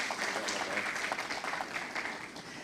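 An auditorium audience at a live business talk show in São Braz applauds steadily as a guest walks up to the stage, producing a dense, even wash of clapping throughout with no clear voices over it.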